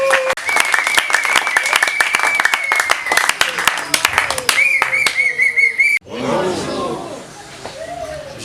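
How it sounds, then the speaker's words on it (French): A crowd claps loudly and rapidly, with whistles and cheering mixed in, before the applause cuts off and a voice speaks over lingering background noise. "nous allons applaudir très fort pour l'encourager."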